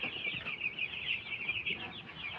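Poultry chickens cluck and squawk in a continuous agitated chorus as they are packed into a crate on a rainy, muddy day, heard close and fairly loud with no speech.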